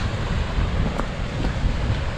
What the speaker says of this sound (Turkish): Çok kuvvetli rüzgar var arkadaşlar.